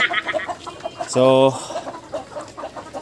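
Chickens cluck on a farm during an egg harvest, with one bird letting out a loud, harmonic squawk mid-clip among scattered nearby clucks, while a person speaks briefly.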